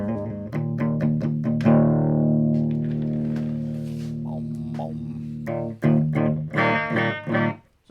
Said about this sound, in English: We're going to run this SS10 because it can do a rat type distortion and the chorus.